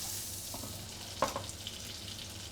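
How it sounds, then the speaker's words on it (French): Butter and oil mixture sizzling in a pan, heating to brown butter before chanterelle mushrooms go in; a steady, fairly quiet hiss with a brief sharper crackle partway through, no talking. "On met un petit mélange d'huile-beurre, on met toujours un petit peu d'huile pour pas que le beurre crame."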